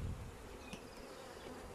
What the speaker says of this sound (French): Tu secoues les abeilles dedans.